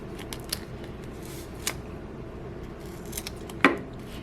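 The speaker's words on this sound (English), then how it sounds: "They do make non-stick scissors" Scissors snipping paper while a simple Christmas card is made, a few scattered soft cuts over a steady background hiss, one sharper snip near the end, no talking.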